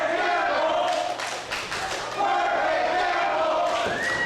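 Arena crowd at a wrestling show jeering a wrestler, a loud sustained chorus of voices that dips briefly midway and then swells again.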